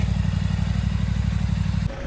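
Motorcycles on a Himalayan ride toward Nubra in Ladakh rumble close by with a steady, loud low engine throb for about two seconds before cutting off abruptly.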